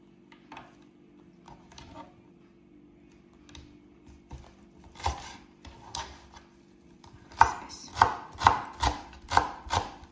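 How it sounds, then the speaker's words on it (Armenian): A knife chopping ham on a board in a home kitchen, with scattered light cuts at first, then a quick run of six or seven loud, close, rhythmic thuds near the end, with no voices. "Հիմա ուզում եմ մի քիչ էլ համ կտրատեմ։"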